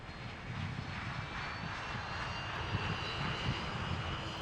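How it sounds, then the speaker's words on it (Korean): Aircraft engines roar at an airport runway, a constant broad rumble heard at a distance with no voices. "이륙을 기다리는 비행기들로 활주로는 쉴 틈이 없습니다."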